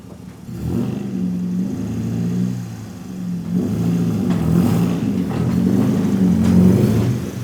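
A Nissan 240SX with a freshly rebuilt engine is out on a drive, giving a steady low engine drone whose pitch shifts and swells through the middle, close and continuous, with no talking.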